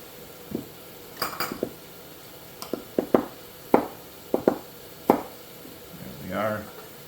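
Knife trimming the tips and tails off washed, fresh farmer's-market zucchini on a board, heard as a series of crisp, close taps and clicks at irregular intervals, with a brief rustle near the end.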